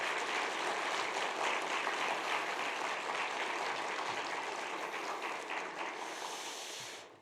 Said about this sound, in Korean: 한번 감사의 박수를 드리겠습니다